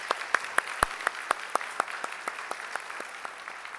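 A Korean church congregation gives a round of applause to God during Sunday worship, a steady rhythmic clapping with sharp individual hand claps standing out close by over the room's wash of applause.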